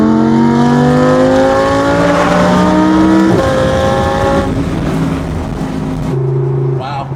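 Audi R8 V10 fitted with a Fabspeed valved exhaust accelerating hard, its loud rising engine note climbing through gears with sharp shift breaks, heard from inside the car while chasing an Integra, with people talking over it.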